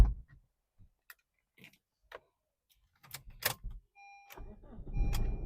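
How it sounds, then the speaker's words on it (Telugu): Electric side-mirror adjustment motor on a 2015 Honda City diesel car, heard as a short steady whirring hum near the end after a few quiet clicks, followed by louder broadband rustle. "మిర్రర్ అడ్జస్ట్మెంట్ ఇక్కడ చూసుకోవచ్చు."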